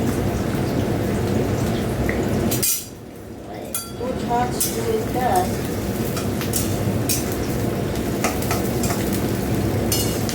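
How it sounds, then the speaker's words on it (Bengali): Onions fry with bay leaf and garam masala in hot oil in a pan, making a continuous close sizzle that briefly drops out early on, with a voice talking over it. "পেঁয়াজটা ভাজা ভাজা হয়ে যায়"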